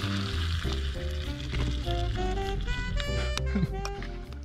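Bacon braising in a pan, a constant crackling sizzle running throughout with tonal music or hum layered over it, moderately loud and close.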